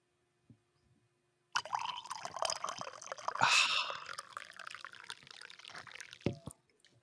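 A morning drink is poured into a cup after a small tap, a steady liquid stream gurgling for several seconds before a final clink, close and fairly quiet.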